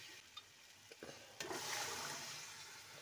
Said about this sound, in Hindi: अब हम जो चना बॉईल करके रखे थे उसे इसमें ऐड कर लेंगे